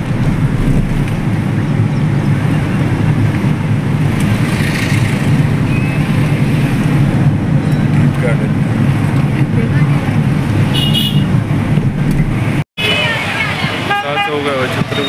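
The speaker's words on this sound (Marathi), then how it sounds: "गाड्या वगैरे केवढे ते" Heavy traffic moves through Chhatrapati Shivaji Maharaj Chowk, a busy town square in Pandharpur, with a constant loud roar of engines and repeated car horns honking, and voices mixed in near the end.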